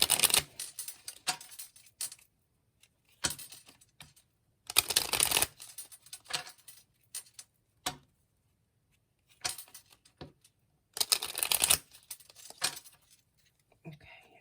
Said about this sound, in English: I feel like I need to shuffle these a little bit.